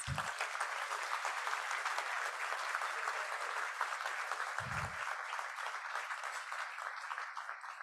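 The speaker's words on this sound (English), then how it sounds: "Please give everyone, Dan, a round of applause." An audience at a centennial gala for a community music center applauds steadily and loudly throughout, a sustained wash of clapping from a full room with no voices over it.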